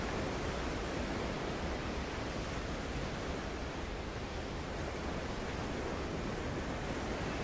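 Ocean waves break on an empty, cold beach in a constant, dense wash of surf with no pauses, loud and enveloping, with no voices.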